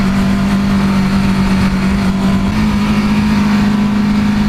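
An EBR 1190RX motorcycle engine runs loud and close with a steady, throbbing note under light throttle, its pitch nudging up slightly partway through.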